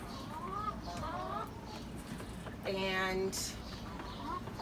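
Chickens cluck and warble while being moved from one coop to another on a homestead in the morning, with their calls rising over close, steady talk and background hiss.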